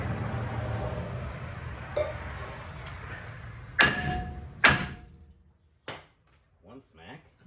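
A hammer strikes a rusted brake rotor on a 2007-2021 Toyota Tundra, giving a few sharp metallic clanks spaced apart, followed by brief talking.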